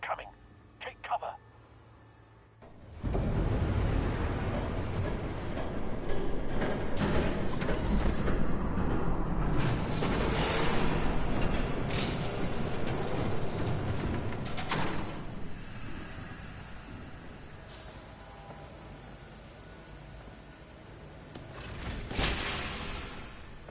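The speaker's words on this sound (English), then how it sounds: "There's a train coming." A train rushes past in the Batman Telltale video game, a loud, sustained broadband roar that starts abruptly after a brief quiet opening, holds steady for about twenty seconds and swells again near the end.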